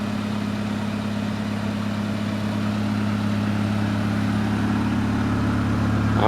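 A 1995 Honda Civic engine, just back together after a head gasket replacement, idles nearby with a steady, even drone, unbroken and without speech.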